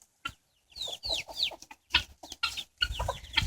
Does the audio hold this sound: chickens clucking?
yes